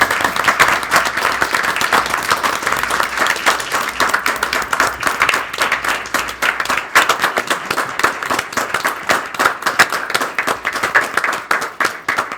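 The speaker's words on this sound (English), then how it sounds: "This is where you get the clap for your police department." A room full of people at a local committee meeting applauds a police department, sustained, dense clapping from many hands that carries on evenly for over twelve seconds with no talk over it.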